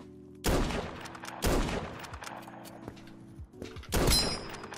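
Rapid gunfire bursts in the Krunker.io shooter game, three loud volleys of shots over a steady background hum, with a bright ringing burst near the end.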